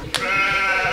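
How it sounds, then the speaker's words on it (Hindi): A sheep bleats once, close and loud, a sustained wavering cry filling the whole second. "ठीक है, भेड़ की माँ। देखो दोनों को,"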